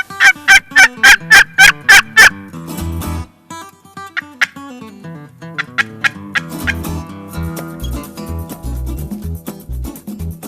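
A wild turkey tom gobbles loudly and close during a turkey hunt. A quick run of about seven rhythmic gobbles is followed by more scattered, overlapping gobbling calls, with no talk.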